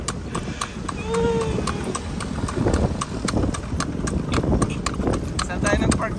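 Horse hooves clip-clop steadily on a city street as a kalesa carriage is pulled through Manila, Philippines, a regular sharp rhythm, close and clear, with people talking over it.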